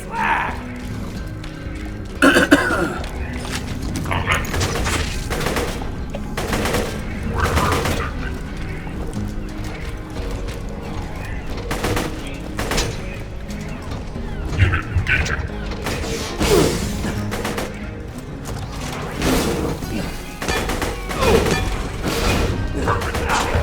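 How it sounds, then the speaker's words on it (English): Rocket launcher fire in the video game Borderlands 2, bursts of three-rocket salvos going off in repeated loud blasts with explosions and crashes, mixed with game noise and someone talking over it. "It's because it unleashes a salvo of 3 rockets per shot."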